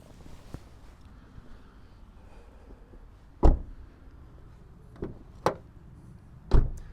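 Front door of a BYD Seal U electric SUV shutting, several solid thuds spaced a second or so apart, close and fairly loud over a quiet background with a faint click or two.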